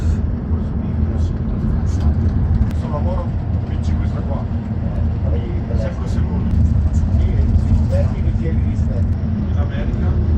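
A car drives along a road through the Gressoney valley in Italy, with a steady low engine and road rumble from inside the vehicle and soft voices murmuring now and then.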